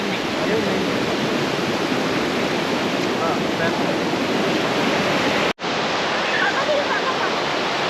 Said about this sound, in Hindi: लहरें हैं कि रुकने का नाम नहीं लेती है ना